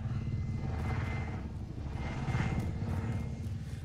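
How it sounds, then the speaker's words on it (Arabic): In the video game Call of Duty, an aircraft drones overhead with a steady low rotor-like hum that swells slightly and fades, moderately loud with no voices. "اوه الطياره شافتني"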